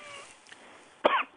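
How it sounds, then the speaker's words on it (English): A single sharp cough near the end, close and fairly loud, after a quiet stretch with a faint tone. "I can hear you coughing."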